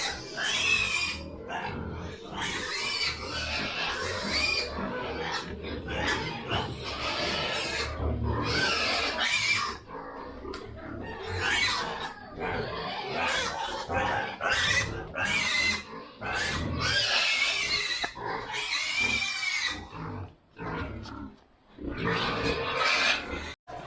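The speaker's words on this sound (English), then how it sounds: "big, massive pigs." Big, massive pigs grunting and squealing in repeated bursts, loud and close, filling the scene with continuous snorts and rasping calls.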